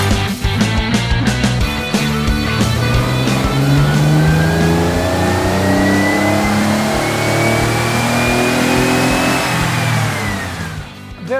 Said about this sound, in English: the engine's, you know, on full chat, sounding gorgeous